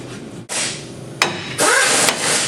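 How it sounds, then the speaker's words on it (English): A hammer smacks a steering spindle on a Dakota pickup to free the ball joint stud, giving several sharp metallic blows in quick succession, close and loud, each ringing briefly with clatter between. "after you smack it a few times, the spindle should come down off of that stud on the ball joint"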